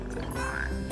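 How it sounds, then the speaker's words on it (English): Frogs croak in the Final Fantasy XV video game, a steady chorus of throaty calls heard over a dense outdoor ambience, with no speech. "For catching frogs, to be precise."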